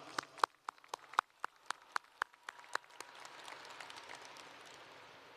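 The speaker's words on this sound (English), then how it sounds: "Let's give them a round of applause." Sparse, faint applause at a high school graduation ceremony, a handful of distinct, irregular claps ringing out in a large space before fading into a soft, scattered patter.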